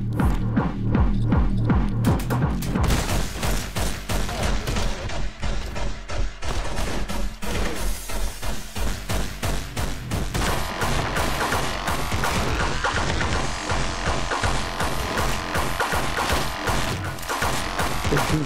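Enemy gunfire in Anger Foot, a dense, relentless barrage of rapid shots and crashing impacts that stays loud and close throughout with no letup.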